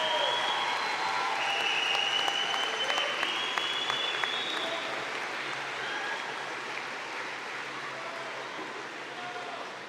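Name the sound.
audience applause at a commencement ceremony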